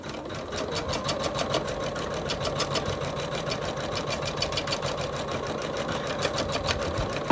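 An embroidery machine stitches out a Christmas angel design with a fast, even, mechanical chatter of needle strokes, running continuously and close by.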